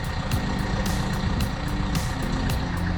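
A diesel Hyundai Tucson engine idles, heard close at the exhaust as a steady low rumble. Faint, regular higher ticks repeat over it throughout.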